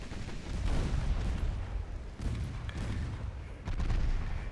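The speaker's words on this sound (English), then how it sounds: "Six-inch guns are doing pretty well" Six-inch naval guns boom repeatedly in Ultimate Admiral Dreadnoughts, a steady barrage of heavy rumbling shots with sharp onsets near 0.7, 2.2 and 3.7 seconds, loud and continuous with no talk.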